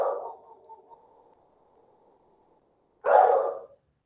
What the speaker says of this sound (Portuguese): Cachorro latiu é normal, tá?